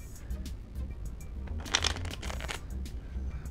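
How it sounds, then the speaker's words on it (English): Soft, close riffling and crisp flicks of playing cards during a false Indian shuffle, with a brief burst of louder card riffles in the middle. "Make sure to give a fake Indian shuffle"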